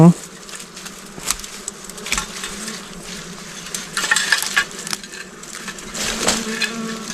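Bees buzzing loudly and continuously around a small, newly built wild honey nest in the forest, close by, with rustling and handling noises mixed in.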